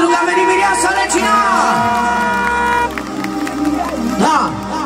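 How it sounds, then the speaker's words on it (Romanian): At a Romanian wedding, guests cheer and whoop as the bride arrives, a loud crowd roar full of shouts and rising voices, with a sharp drop in level midway before the excitement swells again. "aplauze pentru că a venit Mireasa Regina!"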